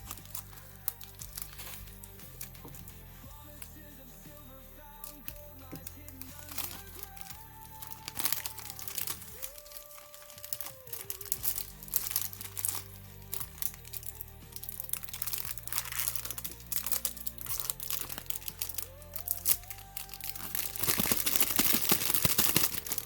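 Plastic packaging around a Kyrgyzstan silver coin crinkles and crackles in irregular bursts for over twenty seconds, close and fairly quiet, growing busier toward the end.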